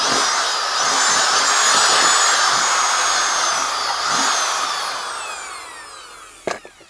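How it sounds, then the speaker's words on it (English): Drill reaming out a hole for a carriage bolt in a deck support board, a loud continuous whine with wavering pitch that slowly fades, then a sharp knock at the end. "Ream that out as best I can."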